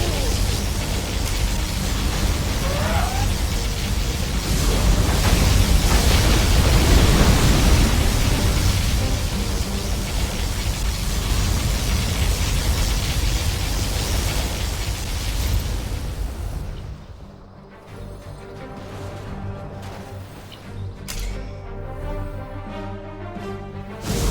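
Loud, continuous roaring blasts from particle cannon strikes in the video game Command & Conquer Generals Zero Hour, a dense rumbling wash that suddenly cuts to quieter crackling game effects near the end.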